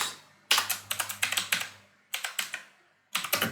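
Bursts of close keyboard typing as someone writes code values on a computer, quick clattering keystrokes in three runs separated by brief pauses, with no talk.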